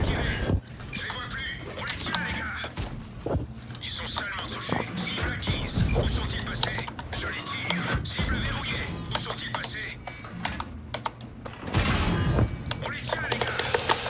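Tank cannon fire and impacts from a World of Tanks battle with a Bat.-Châtillon 25 t, repeated booms and crashes over dense game noise while someone talks throughout.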